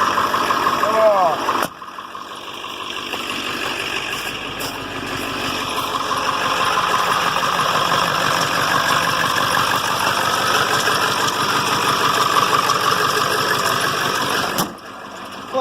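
A vehicle engine idles steadily nearby at a constant low rumble, with a brief voice at the start before the idle settles in.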